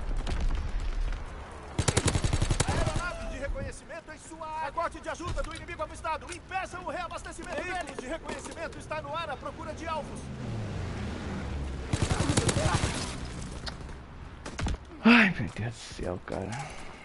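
Gunfire in Call of Duty WW2 multiplayer, with bursts of machine-gun and rifle fire under the game's background sounds, the loudest volleys near the start and the middle. Someone speaks Portuguese over much of it.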